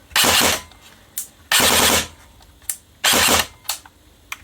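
An electric airsoft gun fires three short, rapid buzzing bursts, with faint mechanical clicks in the gaps between them.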